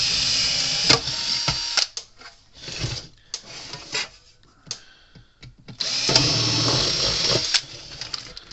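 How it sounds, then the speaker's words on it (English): A drill runs in several bursts, whining and grinding as it bites into a screw on an old Sears fence charger, with short pauses and clunks between spins. "Drill that one out there too."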